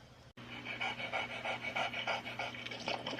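A dog pants in quick rhythmic breaths, close and fairly loud, after a brief cut; Beethoven, a big movie dog in a film trailer, with a low steady hum beneath.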